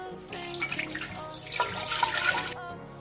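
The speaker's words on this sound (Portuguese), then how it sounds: "Vou estar colocando a água." Water pours into a cooking pot for rice pudding, a short, close splashing run from a tap that rises and then cuts off after a few seconds.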